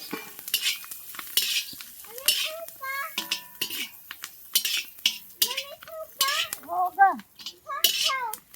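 A spatula stirs and scrapes through onion and masala roasting in oil in a pan, in repeated scraping strokes with soft sizzling, while a voice makes intermittent vocal sounds in the background.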